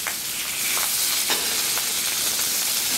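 Salted pork fries on a Blackstone griddle top with a steady, close hiss of sizzling fat and a few soft scraping or stirring taps rising through it, and no one speaks.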